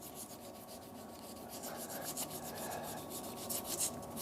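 A stabilised amboyna burl shaving brush handle being sanded as it spins on a wood lathe gives a steady, close rubbing hiss that swells slightly toward the end.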